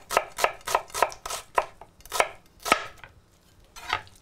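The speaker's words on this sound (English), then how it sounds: "So the onion gets sliced" A knife slices through an onion on a cutting board in a quick series of crisp, close chops, about a dozen strokes with a short pause before the last.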